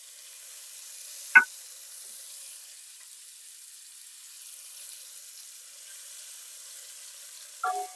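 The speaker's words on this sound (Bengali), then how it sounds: "হালকা লালচে করে চিংড়ি মাছগুলোকে ভেজে নিতে হবে।" Prawns fry in hot oil in a pan for a village-style prawn malai curry, a faint, steady sizzle broken by two brief clinks of a utensil.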